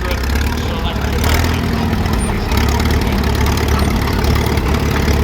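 A vintage tractor engine runs at a country show, a loud, steady low rumble with a throbbing idle that carries without pause, and voices murmur faintly underneath.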